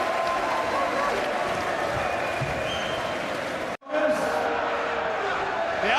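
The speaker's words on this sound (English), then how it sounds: "it is predominantly the noise from the Scottish fans who are cheering on Lee McAllister" Scottish fans in a boxing arena roar and cheer during a British 135lb title fight, a loud, dense, continuous crowd din that breaks off for an instant and then surges back.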